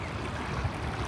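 Fast-moving river water over slimy green rocks at a riverbank on the Mexico side of the border, a steady, dense rushing wash heard close and alone, with no voices.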